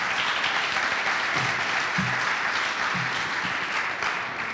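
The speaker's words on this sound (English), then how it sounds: "So give her a big round of applause." A crowd at a PechaKucha event at a science center applauds a speaker, a dense, steady wash of clapping that holds at an even level for several seconds, with a few low voices faintly underneath.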